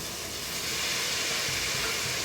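Banana flower dropped into a hot pan for banana-flower biryani, giving a steady, close sizzle and hiss that stays loud and even throughout with no talking.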